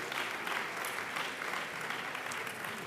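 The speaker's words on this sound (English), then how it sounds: "Yes, you can clap." Guests at an alumni awards banquet break into steady, dense applause for a few seconds. Many hands clap at once with no speech over them.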